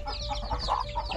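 Chickens clucking close by in a village coop, a quick run of short overlapping clucks with a faint steady tone underneath.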